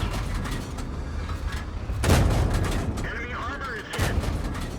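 Tank cannon fire from a KV-1 in the game World of Tanks, a heavy boom around two seconds in and another near four, over constant engine rumble and mechanical creaks, with a voice talking underneath.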